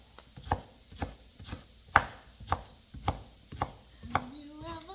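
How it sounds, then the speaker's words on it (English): A knife chops potatoes and sweet potatoes on a cutting board for stovetop potatoes, striking in a steady series of about nine crisp, evenly spaced knocks close by. "And then just chop them."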